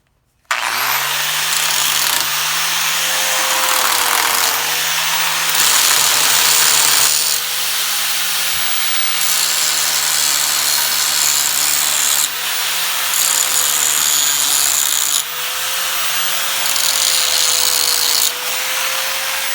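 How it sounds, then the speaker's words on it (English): Grinder beveling the edge of a steel steering column shaft on a 1955 Buick Special build: a loud, continuous close-up whine and grinding hiss lasting nearly twenty seconds, with slight shifts as pressure changes. "Next thing I'm going to do is take a grinder and just clean up this a little bit, and I'm going to put a little bit of a bevel edge on it."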